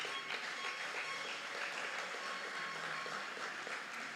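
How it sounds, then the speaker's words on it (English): Audience applauding students at a secondary school graduation ceremony, a continuous, even roar of clapping at moderate level from a large crowd, heard alone without talk. "A round of applause for our students."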